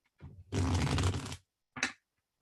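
Deck of playing cards being shuffled up close, a dense riffling flutter lasting about a second, followed by a short second riffle and then quiet.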